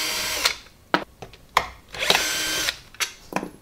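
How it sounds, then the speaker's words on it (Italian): A cordless screwdriver drives out the screws holding a chair's seat and backrest, in short, loud whirring bursts separated by brief pauses, with no talking. "Io per velocizzare le cose utilizzo l'avvitatore."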